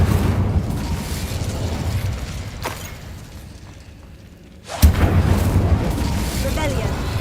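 A fire spell bursts in Hogwarts Legacy, a sudden loud whoosh-boom that cuts in after a quieter stretch and is followed by sustained rumbling game effects, with a voice calling out spells around it.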